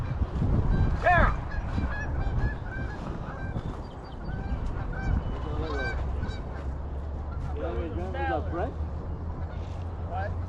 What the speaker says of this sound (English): No, those are mallards.